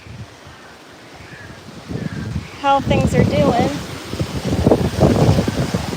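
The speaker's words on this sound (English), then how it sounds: "as we get these crazy hurricane level wind gusts." Hurricane-level wind gusts ahead of Hurricane Milton buffet the microphone in rushing, roaring surges that build and swell, while a person talks over the noise.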